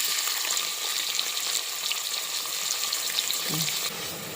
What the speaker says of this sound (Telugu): అండి మటన్ కర్రీ కిందండి ఉల్లిపాయ ముక్కలు వేసుకుందాం.